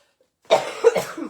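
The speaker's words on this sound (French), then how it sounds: "Ça se peut que je tousse, puis que je me mouche." A single person coughs twice in quick succession, close and sharp, after a moment of silence.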